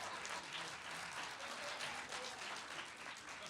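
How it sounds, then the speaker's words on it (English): Audience at a city Martin Luther King Jr. memorial observance applauding for the mayor, a brisk, full round of clapping that stays steady and fairly loud throughout. "Let's give him a round of applause."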